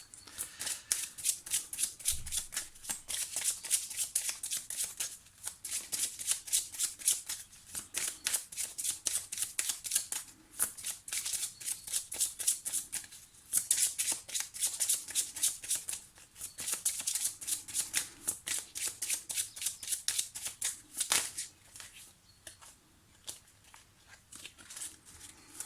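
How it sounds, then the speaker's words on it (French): Tarot cards are shuffled by hand in a steady run of quick, crisp riffling bursts that continue for most of the stretch with short pauses between passes, close up and with no talking. "pendant que je mélange les cartes"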